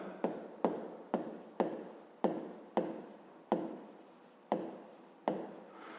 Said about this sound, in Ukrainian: Записуємо тоді перше дія. Пишемо периметр квадрата.